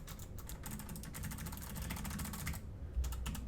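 Fast typing on a HAVIT HV-KB395L low-profile mechanical RGB keyboard with light clicky switches, a quick steady run of crisp keystrokes up close, fairly quiet, with no talking.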